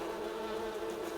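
Bees in the video game Farming Simulator 19 give off a steady, dense buzzing hum, close and unbroken throughout with no talk.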